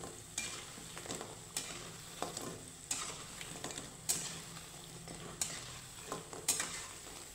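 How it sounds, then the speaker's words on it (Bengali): Moong dal lentil fritters fry in oil over low-medium heat, a soft continuous sizzle punctuated by sharp spoon-and-pan scrapes and taps every second or so, with no talking. "আর এই রসবড়াগুলো আমি একটু লাল লাল করে ভেজে নেব।"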